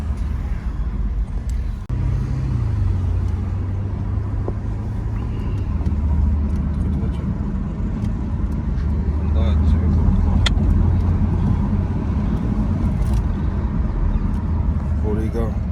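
Porsche Panamera Turbo S driving, a deep engine rumble with a low tone that shifts in pitch and swells toward the end, mixed with outdoor street noise and voices talking nearby.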